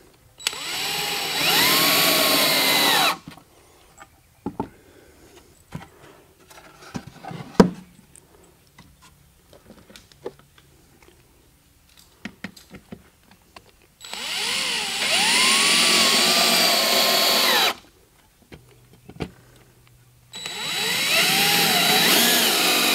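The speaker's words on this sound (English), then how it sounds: "So I'm going to go ahead and screw these in." A power drill drives star screws into a wooden bee box in three loud whirring bursts, separated by quieter stretches of clicks and handling knocks, with no voices.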